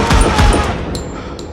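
Rapid bursts of gunfire from a Stranger Things scene crack out loud and close in quick succession over about a second, then fade into a quieter ringing tail.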